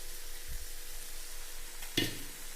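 Tomato masala sautéing in a pan for a Kerala egg roast, a soft steady sizzle with a couple of low stirring bumps early on and a brief sharp clink of a utensil against the pan near the end.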